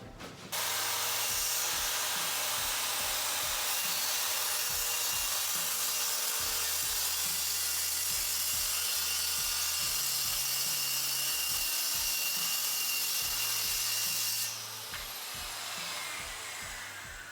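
Power saw cutting a melamine board along a guide, a loud, steady high whine that runs for about fourteen seconds before dropping off, with repeated low thumps underneath.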